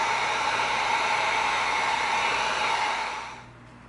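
A heat gun blows steadily on an EVA foam piece for a Scout Trooper blaster pistol, a loud even broadband whoosh that holds for about three seconds and then cuts off near the end, with no talking.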